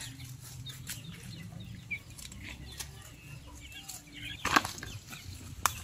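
Chickens on a farm waiting to be fed, heard as faint clucks and brief wing flaps over a quiet outdoor background, with a couple of sharper flutters near the end.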